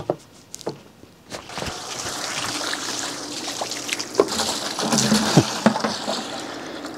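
A Smartbot Robust 2800 water pump, just restarted, pushes out a steady rushing, splashing flow of water that swells after a few brief knocks and keeps going.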